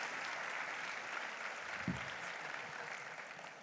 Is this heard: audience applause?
yes